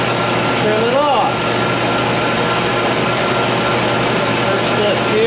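A lathe on auto feed trims ring work on a custom pool cue, giving a steady, continuous machine whir and hum throughout with a brief faint voice early on.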